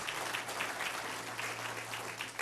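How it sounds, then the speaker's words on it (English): Moderate applause from an audience at an indoor event, a steady patter of clapping over a low constant hum, without voices on top. "Please give them a round of applause."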